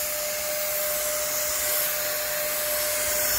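A Hawkforce electric spray gun running continuously, a steady loud whooshing motor drone much like a vacuum cleaner, close and unbroken for the whole stretch.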